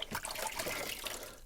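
A vacuum cleaner's charcoal filter being rinsed under running water, a soft continuous splashing and trickling, close and fairly quiet.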